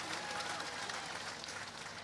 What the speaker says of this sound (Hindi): मुझे आपकी तालियां बता रही थी कि क्या बीरेन सिंह जी बोल रहे हैं, इस बात को समझ में आया।